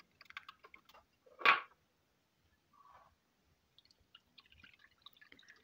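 Wet ingredients for chocolate chip muffin batter are stirred by hand, giving faint scattered squishy, wet clicks with one louder slosh, quiet and close with no voice.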